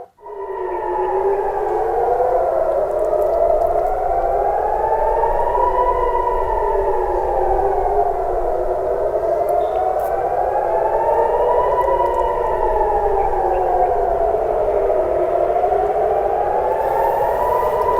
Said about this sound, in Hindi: तो सायरन बज रहे हैं आसमान में, आप देख ही रहे हैं।